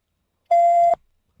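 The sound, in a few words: smoke detector beeping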